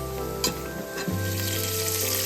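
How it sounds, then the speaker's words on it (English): Thinly sliced red onions fry in butter in a large pan for Bannu beef pulao, Peshawar street-food style, giving a loud, steady sizzle with scraping stirs, close up and without talk. "Stir continuously and fry it until dark brown in color, like this."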